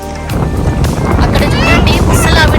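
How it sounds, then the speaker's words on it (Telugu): A raft moves through beach water in summer, with loud, rushing splashes and wind buffeting close to the microphone. Voices call out over the steady noise. "ఇక్కడ చూడండి తను రాఫ్టింగ్ చేస్తుంది"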